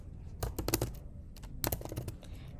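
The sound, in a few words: typing on a computer keyboard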